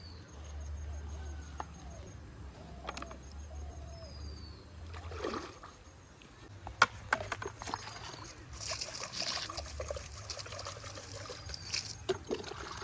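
Water is poured onto garden plants, including coriander, a soft trickling and splashing close by, with scattered rustles and handling noises.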